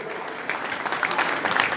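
Guests at a Kazakh circumcision celebration (sündet toi) clap together in a banquet hall, a dense patter of many hands that swells louder midway and keeps going to the end.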